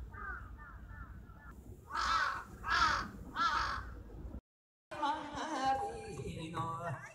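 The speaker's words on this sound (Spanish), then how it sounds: "está lleno de cuervos" Crows in the Osaka Castle park give three loud, harsh caws in a row, preceded by fainter cawing. A brief break follows, then more distant bird calls and background chatter.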